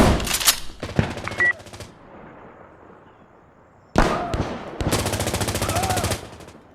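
Gunfire in the combat shooter Insurgency Sandstorm: loud bursts of rapid machine gun shots open and close the passage, with a quieter lull between, over shouted voices.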